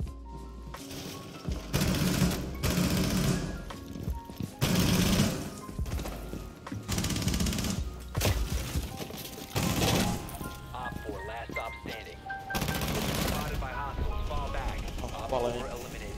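Gunfire and explosive blasts in Rainbow Six Siege, with repeated loud bursts of shooting and crashes spread across the stretch, while players talk excitedly over the action.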